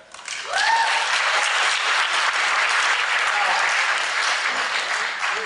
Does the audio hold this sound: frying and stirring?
no